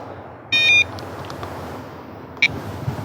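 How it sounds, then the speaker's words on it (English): A bright electronic beep tone sounds for about a third of a second, then a second short beep follows, loud and close over a quiet background. "people do have quite a preference to the sound of the alarm"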